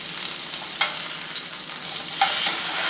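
A steak sizzles loudly and steadily in a hot pan as it is basted with fat, with brief surges of hissing as the fat is spooned over.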